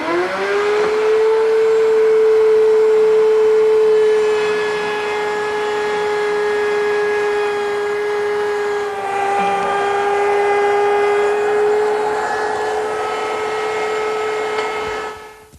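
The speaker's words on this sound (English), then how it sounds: "So I've set up my router table with a beading bit." A router table fitted with a beading bit cuts wood for a dovecote project, with a shop vacuum hooked up, giving a loud, steady, high-pitched motor whine that holds for about fifteen seconds, shifts slightly midway, then cuts off.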